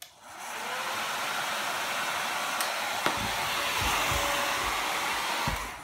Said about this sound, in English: the magic of hair dryers and ping pong balls